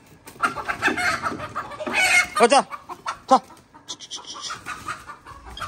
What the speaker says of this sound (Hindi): ओ मुर्गी है, छोटी जी मुर्गी है।